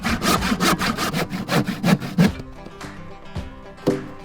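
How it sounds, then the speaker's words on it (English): A handsaw cuts quickly through dry wooden boards with about a dozen loud, rhythmic rasping strokes close by, then the sawing stops and a few scattered knocks and clatters of the wood follow. "We mark the material and cut it to size with a handsaw."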